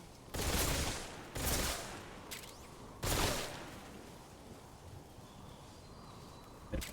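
Gunfire in the stealth action game Metal Gear Solid Delta: Snake Eater, with four loud close shots at irregular intervals, each followed by a decaying echo, then a quieter bang at the end.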